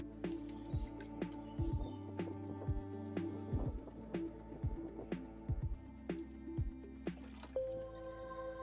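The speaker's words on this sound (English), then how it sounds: "So all we need to do now is give them water, and I've got some rainwater from the pond." Pond rainwater is poured onto sunflower seedlings, giving close, quiet drips and soft splashes in an irregular patter.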